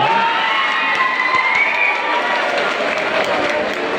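A pageant crowd at Binibining Bahaghari 2024 claps and cheers loudly and continuously, with shouts and whoops layered over dense applause throughout.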